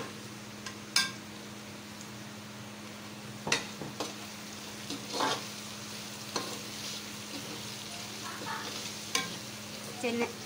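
A spoon stirs red chillies and spices through a hot pan with a soft, steady sizzle underneath, while occasional louder scrapes and clinks stand out at irregular intervals. The sounds are close and quiet, with no talking.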